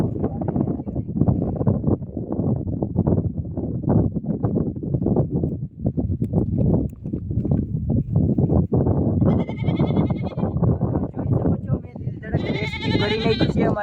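A goat trapped in a pit bleats a few times, short and fairly loud, while several people talk over it almost the whole time.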